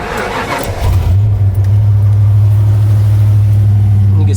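Cold 5-speed car engine cranking over and catching, then settling into a loud, steady, smooth idle close by, with brief voices before it fires.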